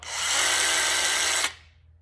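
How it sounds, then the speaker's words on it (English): A Bosch Nano Blade mini chainsaw cutting packaging whines loudly at high pitch for about a second and a half, then cuts off abruptly and winds down. "I'm going to use a Bosch mini chainsaw."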